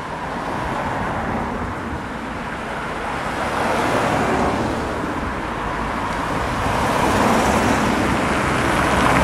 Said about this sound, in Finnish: Nyt tulee vanha paloauto.